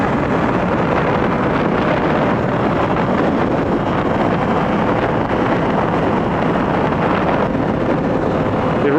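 Yamaha FZ-07 motorcycle rolling on in third gear from about 3,000 to 6,000 rpm, a steady loud engine drone heavily buffeted by wind rushing past the rider's microphone throughout.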